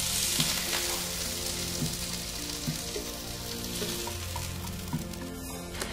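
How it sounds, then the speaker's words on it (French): Skewers pan-frying in a film of oil, a steady bright sizzle and crackle filling the whole stretch, with faint utensil taps and a low hum beneath, no voices. "je viens mettre le fond d'huile et je mets la brochette à poêler"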